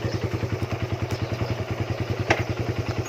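A Suzuki Raider 150 motorcycle engine idles steadily after a clutch lever adjustment, its exhaust pulsing in a quick, even rhythm with a faint clatter, close by and alone.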